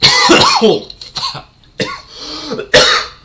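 Several harsh coughs and throat-clearing sounds up close, coming in a few separate bursts with short pauses between them.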